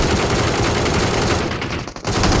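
Dense, continuous loud gunfire from PUBG Mobile roars without a break, a rapid machine-gun-like barrage close up that dips only briefly.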